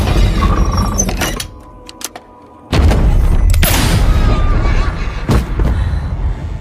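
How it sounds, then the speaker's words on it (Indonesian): Loud, sharp gunshot-like bangs burst out amid heavy background noise, with a brief quiet gap before another blast. "Lucy pun melepaskan tembakan"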